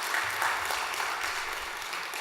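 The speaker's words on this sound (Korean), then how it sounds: "여러분들 박수 한번 쳐주시기 바랍니다" A church congregation at a Korean service claps for the youth teachers, a dense, even wash of many hands. The applause holds steady and moderately loud for the whole stretch, with no talking over it.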